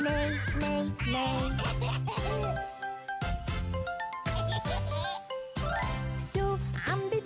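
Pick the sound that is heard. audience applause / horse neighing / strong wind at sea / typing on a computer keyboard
horse neighing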